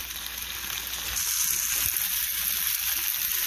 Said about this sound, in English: now you let that simmer for a little while